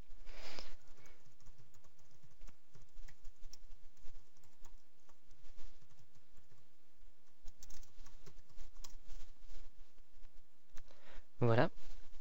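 Keys on a computer keyboard tapped in scattered bursts while Apple ID login details are entered, the soft clicks fairly close with quiet pauses between runs.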